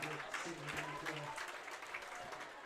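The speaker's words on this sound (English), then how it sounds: "His Aces teammates get off their knee and clap for him." Hicksville Aces high school football teammates rise from a knee and clap for an injured player at a homecoming game against Ayersville, a faint, steady patter of applause heard at a distance beneath a commentator's voice.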